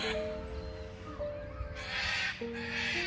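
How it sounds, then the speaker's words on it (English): Cockatoos in a garden call out with two long harsh screeches, loud and raspy, over a steady outdoor background with faint tonal hum. "listen to the cockatoos"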